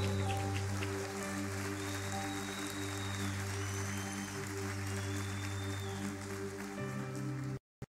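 Church congregation at a Lagoinha Canoas service applauding, a dense steady wash of clapping that holds for most of the stretch over a low sustained musical drone, then cuts off abruptly near the end.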